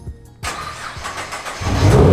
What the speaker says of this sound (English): DRL didn't come on, but the car started